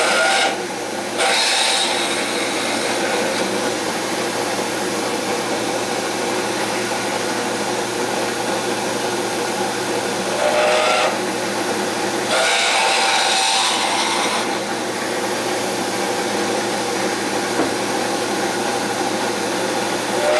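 A power drill bores into a guitar headstock in a workshop, giving a continuous, steady whine and grind with slight changes in load over about twenty seconds and no talk.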